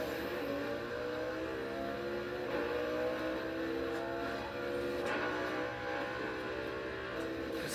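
Hawker Solo car engine in the Burnout Paradise video game, version 1.0, holding a steady, fairly quiet drone with a layered harmonic tone and slight shifts in pitch, running continuously with no talk.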